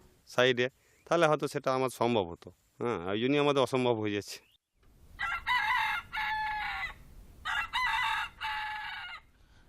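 Several rooster crows ring out close by in an Indian village, one after another, mixed with hen clucking and a low background murmur.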